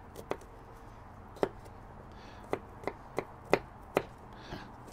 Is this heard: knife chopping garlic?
yes